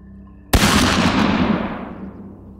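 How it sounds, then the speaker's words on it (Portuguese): A single shotgun blast bursts out suddenly, loud and sharp, then rolls into a long fading echoing decay over about two seconds, with no speech. "lentamente ele levantou a espingarda e atirou"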